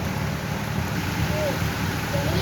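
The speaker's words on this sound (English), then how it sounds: "So much rain." Heavy rain pours in a steady, dense wash from start to finish, with a low rumbling undertone and no break in the noise.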